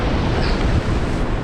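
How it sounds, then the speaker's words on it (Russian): Storm waves crash on the Crimean sea shore, a loud, continuous roar of surf mixed with heavy wind buffeting the microphone, close and unbroken. "Волны становятся больше."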